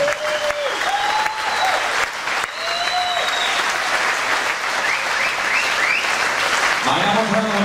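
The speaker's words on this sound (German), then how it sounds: "Bitte noch einmal einen großen Applaus an Danyo und Wendell," Sustained applause from a boxing-event audience after the bout between Danyo Ilunga and Wendell Roche, dense and steady throughout, with a host's voice briefly audible over it.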